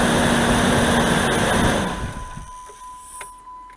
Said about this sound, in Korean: 방금 들으셨던 소리가 지금 냉간시에 시동을 걸었을 때 횡클러치 소음이에요